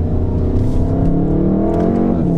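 A BMW drives past close by, its engine note rising and then sweeping down as it goes, loud and alone with no talking.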